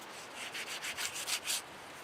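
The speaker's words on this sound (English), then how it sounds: "I'm just smoothing this out so I don't get a sliver on it." A birch plywood edge is smoothed by hand with a series of about eight short, soft rubbing strokes in a quick even rhythm, close and quiet, with no speech.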